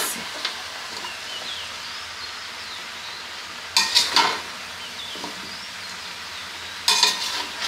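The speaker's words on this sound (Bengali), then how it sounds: "এগুলো হচ্ছে খিচুড়ির সবজি রান্না করতেছে।" Khichuri vegetables fry in a pan with a steady broadband sizzle, while a utensil stirs and scrapes against the pan in two louder bursts of clatter. No one speaks.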